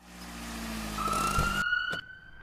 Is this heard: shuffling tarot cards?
no